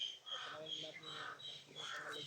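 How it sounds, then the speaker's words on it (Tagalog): Crows cawing in a mountain setting, with harsh repeated calls in a steady run over the whole stretch, fairly close and mixed with a voice talking. "maraming uwak dito mga idol"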